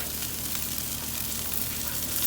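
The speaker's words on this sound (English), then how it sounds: "Sizzling just right." Chicken lollipops fry in oil at about 325 degrees, giving a steady, dense crackling sizzle that stays loud and even throughout, with no talking.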